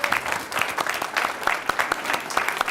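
An audience at a school board of education meeting applauds a Loveland High School senior, with steady, fairly close clapping from a modest crowd continuing for a few seconds and no talking.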